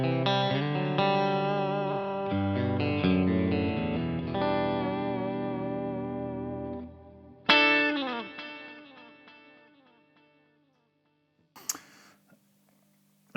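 Godin LGXT electric guitar on a split humbucker through a Boss GM-800 rings out in sustained chords with chorus and light distortion, a fresh strum near the middle that decays slowly, then a few faint ticks and silence.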